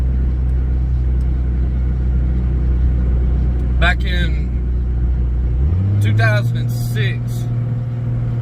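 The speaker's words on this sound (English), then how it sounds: "Truck's kind of loud. I got a very heavy load behind me." A truck towing an overfull, very heavily loaded dump trailer drones with a loud, steady low engine rumble, shifting pitch partway through as the load pulls, while someone talks over it.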